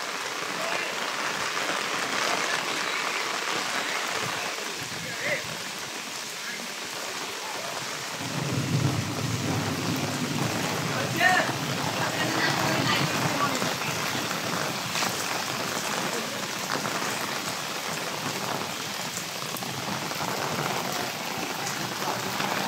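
Heavy rain pours down on a village in a dense, continuous roar, growing fuller partway through, with a low rumble like distant thunder and no clear voices.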